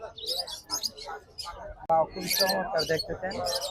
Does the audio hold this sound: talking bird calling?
yes